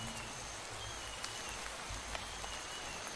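Steady rain falls in the Minecraft modpack Craft to Exile, heard as a faint, even hiss that never changes for the whole stretch, with no voices over it.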